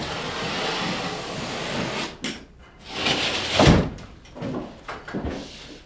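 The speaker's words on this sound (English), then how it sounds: "I just hang the whole panel and then cut along the outside stud with my utility knife." A utility knife scores and cuts a hung drywall panel along the outside stud, making close scraping and rasping strokes in uneven bursts, with a snap and a few handling knocks.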